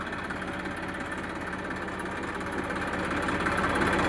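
A Massey Ferguson 1035 DI tractor engine idles close by, a low continuous rumble with even vibration that grows slightly louder toward the end.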